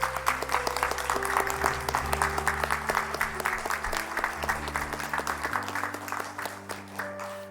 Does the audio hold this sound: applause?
yes